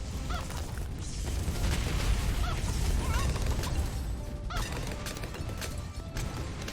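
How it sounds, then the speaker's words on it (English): Chickens cluck and squawk in scattered bursts inside the Bloons TD 6 video game, heard over a dense, loud bed of game effects with thumps and pops. "the chickens are very annoying because they're chickens"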